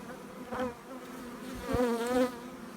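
Honey bees swarm around their hives in a bee yard, a steady close droning buzz with wavering pitch as individual bees pass the microphone.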